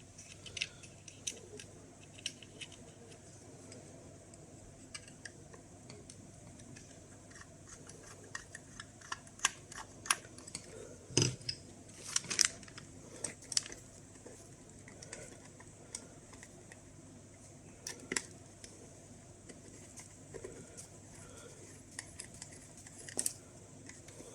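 Bolts being removed while an SRP-88 dosimeter is taken apart, heard as faint, scattered small metallic clicks and ticks with a short cluster of sharper taps midway, set against a quiet room background.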